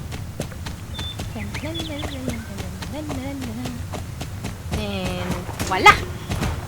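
Icelandic horse hooves clip-clop in Star Stable Online, a steady close run of light hoof hits under a chattering voice, with a brief brighter burst near the end.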